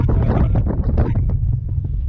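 Heavy wind buffets the microphone atop a tower in Prague in loud, low rumbling gusts, with faint muffled sounds underneath.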